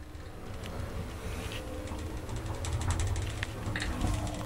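A Fiam traction elevator motor in a building in Naples hums and whirs steadily, with mechanical ticking and clicking layered over it, close and continuous.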